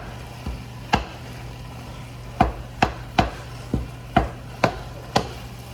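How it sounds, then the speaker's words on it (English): Sharp-edged spatula chopping and breaking down ground meat in a pan for meat sauce, about nine distinct scraping knocks at an irregular pace, close and fairly quiet over a low steady hum. "I like using this spatula because it has a sharp edge to kind of break down the meat"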